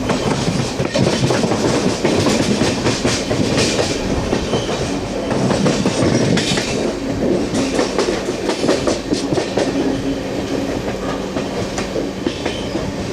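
A Garib Rath Express train runs along the tracks, with continuous rumbling and rhythmic clickety-clack of wheels over rail joints, loud and steady throughout.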